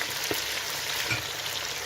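Previously fried potatoes sizzling in a hot pan, with a continuous crackling, hissing fry and a couple of soft thuds as pieces land.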